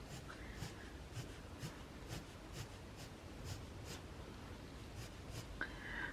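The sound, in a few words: colored pencil strokes drawing a wood effect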